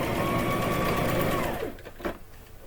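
A sewing machine runs a steady back stitch on a quillow, a continuous whirring hum that stops partway through, followed by a few faint clicks and handling noises.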